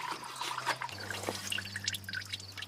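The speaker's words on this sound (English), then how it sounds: "Straight diesel fuel. I can hear it coming out down in the drain pan." Straight diesel fuel flushing out of a 5.3 Firebird engine during an oil change, dripping and trickling into a drain pan below, a steady run of small wet drips over a low hum.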